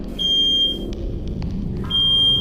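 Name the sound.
smoke alarm going off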